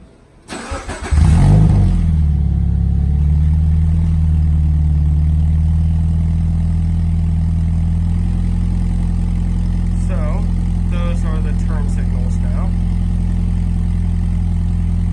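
A Subaru BRZ engine cranks and catches with a sharp rev, then settles into a steady, close, low idle that hums evenly, with faint clicks and beeps partway through.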